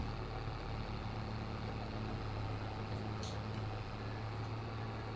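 A modded tractor engine idles in the Farming Simulator game, a steady, even low drone running throughout with no talking over it.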